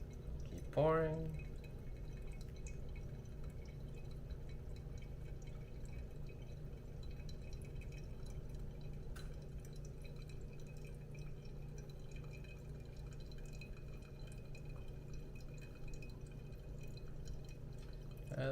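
A second pour of water goes over ground Onibus Blend coffee in a small Hario V60, a faint, steady trickle that continues unbroken, with a brief brighter splash near the start.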